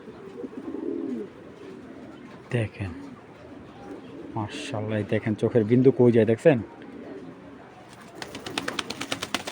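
Giribaz pigeons coo softly in the background while someone talks up close; the cooing sits under and between his speech, with faint chirps near the end.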